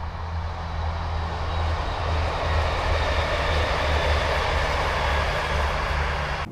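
A train rolls steadily along a railway line beside a canal near an aqueduct, a continuous loud rumble with low droning engine tones and broadband wheel noise, close and unbroken, with no talking.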